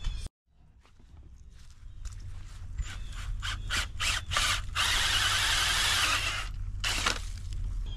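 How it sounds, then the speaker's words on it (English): Power drill boring holes in rocky garden ground for planting tulip and daffodil bulbs, a loud grinding whir building up and running steadily with brief pauses and restarts, close by. "so he's going to use a drill"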